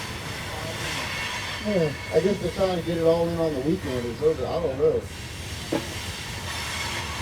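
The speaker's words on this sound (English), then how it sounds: "It seemed like during the week that train barely went by, but now today it's going by all day long" A train rolls past on a railroad near a salvage surplus yard, a steady rumbling wash of wheels and cars with brief squealing, while someone talks over it.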